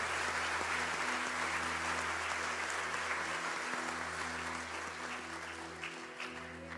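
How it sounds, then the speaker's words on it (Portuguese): A church congregation applauds at a Portuguese-language worship service, producing a steady, dense wash of clapping that carries on evenly throughout with a low hum beneath. "Salve de palmas para Jesus, querido."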